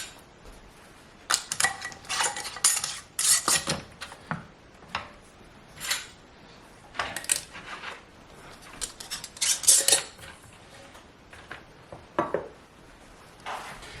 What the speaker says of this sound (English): after our lids are on, we're going to put our bands on